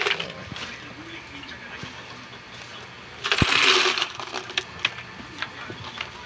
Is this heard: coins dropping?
yes